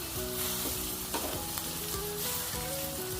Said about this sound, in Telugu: ఉల్లిపాయలు మగ్గిపోతున్నాయండి, ఈలో మనం టమాటాలు కూడా వేసేసుకున్నాము.